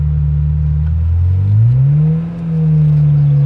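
A Ferrari F355 GTS with a manual gearbox pulls hard under acceleration, its engine note climbing, dipping briefly at a shift, then rising again, loud and close from inside the car.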